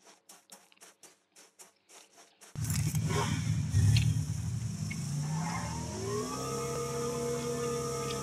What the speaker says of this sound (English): No, it's a motorbike.